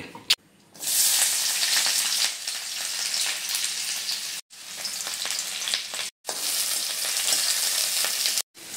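Oil fries in a kadai with a loud, close, continuous sizzle, broken by a few brief pauses.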